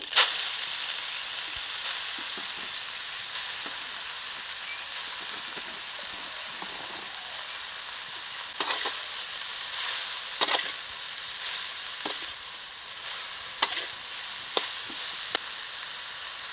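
Black mustard seeds and amboli greens fry in hot oil, a steady close sizzling hiss with occasional sharp crackles and pops from the seeds, loud and continuous.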